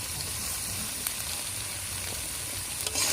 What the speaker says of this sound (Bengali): এবার যে পটলগুলো ভেজে রেখেছিলাম এই পটলগুলো দিয়ে দেব